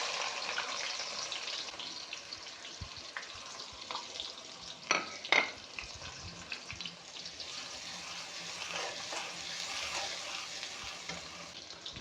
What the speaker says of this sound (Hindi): प्याज डालने के बाद अब हम इन्हें इतना फ्राई करेंगे कि प्याज हमारे गोल्डन ब्राउन हो जाएं।